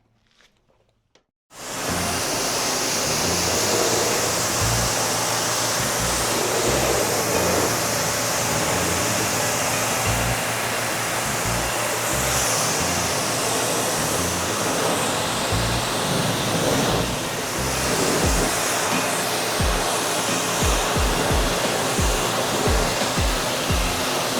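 Loud, steady spray of rinse water hitting a car freshly treated with KATIBA ceramic coating spray, a continuous hissing rush that starts abruptly after a brief quiet moment and holds strong throughout, with occasional patter and splashes.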